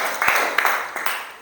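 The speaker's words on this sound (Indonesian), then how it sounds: "tepuk tangan buat kelompok 2" A classroom group claps briefly for a student team, a short burst of scattered hand claps with a few sharper individual claps, fairly close and without talk.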